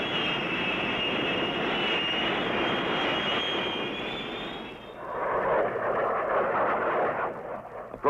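Military jet aircraft roar overhead flying in for close air support during the Vietnam War, a loud continuous broadband engine rush with a high whine that shifts tone midway as the planes pass.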